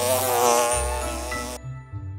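A cartoon bee gives a steady, droning buzz, loud and close, that shifts in pitch before cutting off abruptly, followed by a brief soft rumble.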